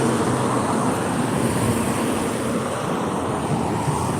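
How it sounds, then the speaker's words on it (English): A car passes on a road, a steady, fairly loud broadband roadway rumble that holds level for the few seconds with no voices over it. "Another Colorado car."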